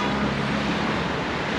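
Dense, steady roar of city street traffic nearby in Sofia's cultural district, Bulgaria, engines and tires blending into a constant loud wash with no pauses.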